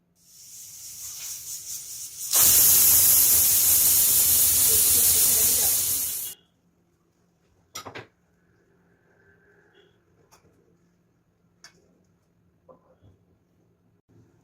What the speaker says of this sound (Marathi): आपला कुकर शिट्ट्या झाल्या